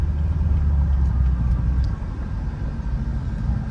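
The 900whp Corvette C7Z engine idles as the car rolls to a stop, heard as a steady low, deep rumble from inside the car, moderately loud and fairly even throughout, with no talking.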